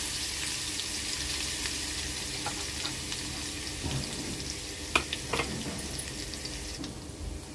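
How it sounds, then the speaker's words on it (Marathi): Asafoetida and garlic cloves sauté in hot oil for a Maharashtrian veg thali, a steady broadband sizzle throughout with a few sharp clinks of a spoon against the pan near the end. "हिंग चिमूडभर चार लसणाच्या पाकळ्या घेतल्यात ते घालून घेऊया जरा परतून घेऊया अर्धा मिनिटभर"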